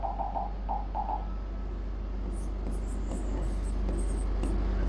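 A teacher writing notes during a disaster management class, a run of quick, light scratchy strokes in short bursts over a steady room hum, close and fairly faint, with no voices.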